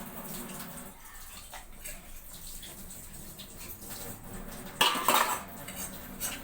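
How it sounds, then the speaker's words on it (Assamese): Dishes and cutlery are washed with water after a meal at home, with clinking utensils and running, splashing water, plus a louder clatter near the end. "বাচনকেইটাহে ধুলোঁ"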